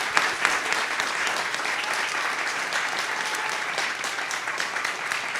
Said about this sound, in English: Please join me in a round of applause for Homeira for having shared her beautiful work with us